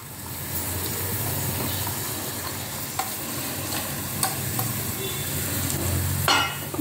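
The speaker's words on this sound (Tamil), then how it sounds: "ஏலக்காய், கிராம்பு, ஒரு பட்டை போட்டேன் இல்லையா, அது வதங்கிட்டு இருக்கு." Cardamom, cloves, cinnamon stick, garlic and onion sauté in a hot pan, giving a steady close sizzle with occasional stirring scrapes and clinks throughout.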